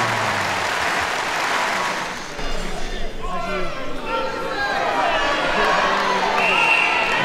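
An arena audience at a UK vs USA strongwoman contest claps and cheers for a competitor, a loud crowd roar with whoops and an announcer's voice over it.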